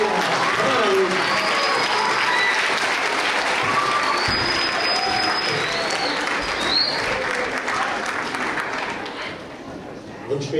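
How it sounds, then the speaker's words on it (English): Sustained applause from a middle school audience at a Beta House leadership awards ceremony, dense steady clapping filling the room for about ten seconds, with faint voices mixed in. "now we can give a great round of applause to our leadership awards for Beta House"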